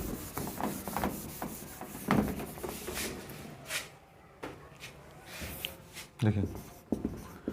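Chalk or marker writing large on a classroom board, with scratchy strokes and taps in uneven bursts under a teacher's speech.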